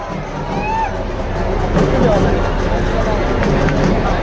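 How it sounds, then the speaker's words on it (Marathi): A festive Dahi Handi crowd in Indapur roars with steady, loud cheering and babble, a dense wall of voices that swells slightly midway and holds. "याला जल्लोष म्हणायचं"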